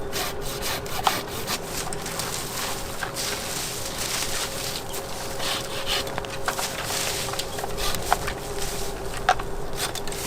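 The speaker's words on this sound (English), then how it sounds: "I'm supporting my cuts as I go to prevent tearing. And I have a very sharp saw." A very sharp hand saw cuts through tree limbs during pruning, with quick rasping strokes in a steady rhythm. The sawing is close and moderately loud against faint outdoor background, with no talking.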